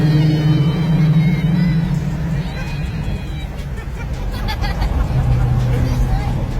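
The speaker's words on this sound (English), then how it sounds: "this car is loud. It's very loud." Rebuilt sports car, restored from a burned-out wreck, on its first test drive at the speed limit: a loud steady engine drone and low rumble inside the cabin, with people talking over it throughout.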